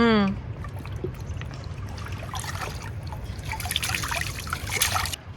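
Hot spring water trickles and splashes steadily nearby, a soft continuous babbling flow.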